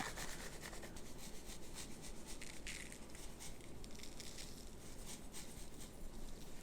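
Kosher salt is rubbed by hand over the skin of a raw spatchcocked turkey, giving a faint, steady gritty scratching and rubbing up close, with no talking.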